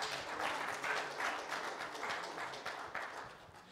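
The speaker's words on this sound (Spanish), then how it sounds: "Dale un aplauso al Señor a ver si despertamos" Congregation at a Sunday church service clapping for the Lord, a steady dense patter of many hands held at a moderate, somewhat distant level throughout.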